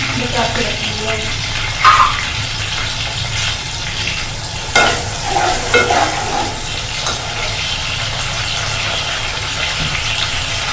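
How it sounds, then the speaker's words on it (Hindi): Tempering oil sizzles and crackles steadily in a pan up close for haleem, with occasional clinks of a utensil against the cookware. "जो हलीम मैंने पकाया था उसमें से मैं आधी को तड़का लगा रही हूँ"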